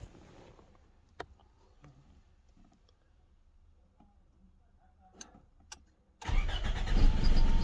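Several quiet clicks and taps, then near the end a Toyota Camry 2.4 engine suddenly cranks loudly up close without starting.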